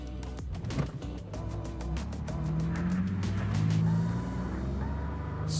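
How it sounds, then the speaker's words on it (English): A Steeda high-output Ford F-150 Raptor pickup driving on a street: a rising and falling engine drone with a throaty exhaust note, fairly close and steady, with no talking. "let's pop off the curb, take it for a little spin to see how it handles"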